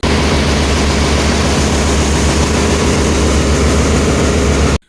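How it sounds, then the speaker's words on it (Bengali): A passenger launch's engine room roars with a loud, constant heavy diesel drone, dense and unbroken throughout, ending abruptly. "এটা হচ্ছে লঞ্চের ইঞ্জিন রুম এখানে কি পরিমাণ শব্দ আপনারা একটু শুনি দেখেন"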